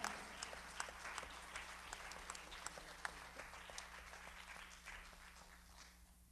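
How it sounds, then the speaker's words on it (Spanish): A church congregation gives sustained applause, many hands clapping in a dense patter with a few sharper individual claps, heard rather faintly over a steady low electrical hum and gradually easing off. "Dale el aplauso fuerte, aleluya, gloria al Señor."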